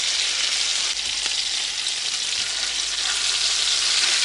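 Food pan-fries to a golden crust in a village kitchen, giving a steady, dense hiss of sizzling oil that stays even and fairly loud throughout, with no talking.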